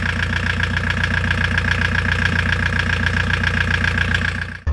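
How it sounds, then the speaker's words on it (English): A VW T3 van engine idles steadily at about 15 feet, a loud, even rhythmic chugging with a tight repeating pulse and no voices, ending suddenly. "That's the engine running"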